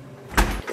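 A front door with a broken handle swings shut as someone heads out, one dull thud with a short rattle, close by and fairly loud against a quiet room.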